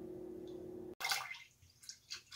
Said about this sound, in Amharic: ኪኔቶውን ውሃ ሙለዋለሁኝ። ውሃ መሙላት ማለት ነው፣ በቃ አንድ ጃር ውሃ መሙላት